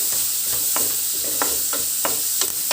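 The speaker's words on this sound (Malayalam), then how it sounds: "ഇനി നമുക്ക് കറിവേപ്പില ഇട്ട് കൊടുക്കാം. ഇതെല്ലാം കൂടെ ഒന്ന് ഇളക്കി." Curry leaves and onion sizzle in a pan as a spatula stirs them, with rhythmic scraping strokes roughly every third of a second over a constant hiss, close up with no talking.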